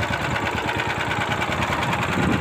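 A VX Power outboard boat engine runs while out fishing off Pulau Kelapa in Tanggamus, giving a close, continuous rhythmic throbbing rumble with a buzzy mechanical edge and no pauses.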